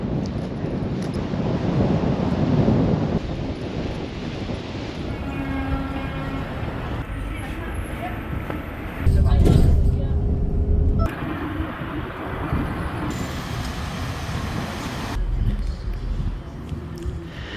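Rumbling ride aboard a bus through Renfrew in the west of Scotland, a steady low engine and road drone with rattles, wind and shifting tones throughout, no voices.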